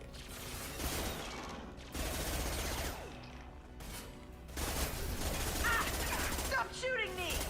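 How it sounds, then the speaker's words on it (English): Rapid automatic gunfire from a shooter video game sounds in repeated bursts, close and loud, with brief gaps and synthetic game effects trilling near the end. "Stop shooting me!"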